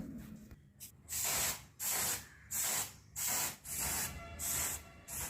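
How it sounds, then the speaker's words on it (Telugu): Room freshener sprayed from a can around a home's rooms, six sharp hissing bursts close by, each lasting about half a second with short pauses between, and no voices. "ఇప్పుడు అన్ని రూమ్స్లో రూమ్ స్ప్రే చేస్తున్నాను"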